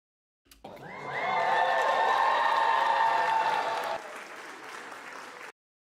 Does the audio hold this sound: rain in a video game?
no